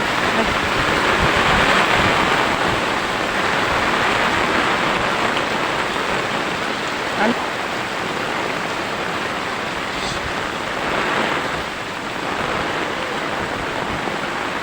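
Floodwater rising fast and pouring into a house during a flood, a steady, loud broadband rush of flowing water that continues without a break and swells slightly at moments.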